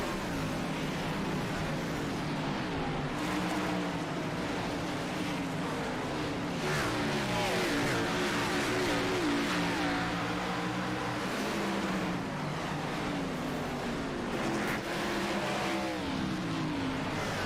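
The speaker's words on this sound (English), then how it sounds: "Green flag in the air. We're underway, kicking the asphalt at Richmond." A pack of race cars starts at Richmond in a racing video game, engines droning and rising in pitch together in a steady, continuous roar with layered revving tones throughout.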